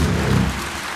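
An audience at a Daegu forum seminar applauding, a dense, even wash of many hands clapping that sounds like heavy rain, steady at first and thinning slightly toward the end.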